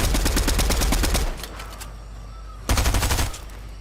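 Video game gunfire comes in two loud bursts of rapid automatic shots, split by a short lull with faint ambient noise.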